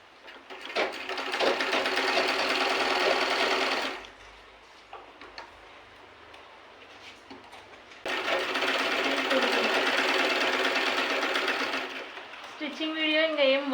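A sewing machine stitching a frock runs in two long bursts of rapid, steady stitching with a quieter pause between, and someone speaks briefly at the end.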